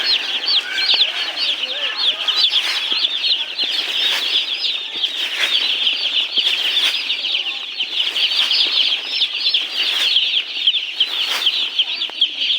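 Baby chicks feeding on scattered feed, with dense, continuous high chirping and peeping from many chicks close by, plus soft pecking and fluttering underneath, steady throughout.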